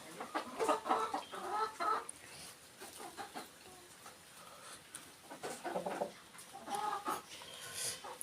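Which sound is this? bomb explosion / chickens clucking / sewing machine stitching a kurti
chickens clucking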